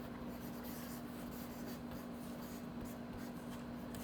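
Chalk or marker scraping steadily across a board as letters are written, a continuous faint scratching over a low electrical hum with no talking.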